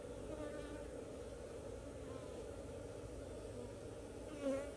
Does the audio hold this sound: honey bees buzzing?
yes